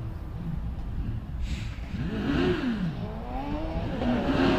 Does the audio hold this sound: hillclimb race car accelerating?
yes